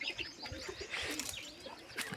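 Pigeons, including a white bird and a nesting pair, softly cooing and chirping in a loft, with quiet overlapping calls over a faint background hum.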